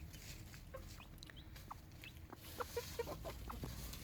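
A hen clucks softly in short bursts near two newly hatched chicks, faint and close, with a few quick clucks clustered near the end.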